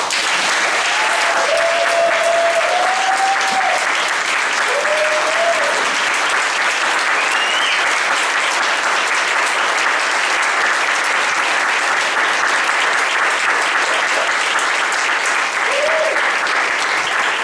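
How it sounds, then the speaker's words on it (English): Loud, sustained applause fills a hall after the national final round of a mock trial competition, dense clapping from a large audience with faint tonal sounds briefly rising above it. "If we can get a round of applause for both."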